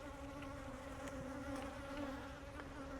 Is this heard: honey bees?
yes